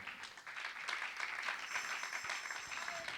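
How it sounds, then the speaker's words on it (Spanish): A church congregation claps together during a prayer service, a dense, even patter of many hands that sounds somewhat distant and soft throughout, with no voices. "Dale palmas al Señor."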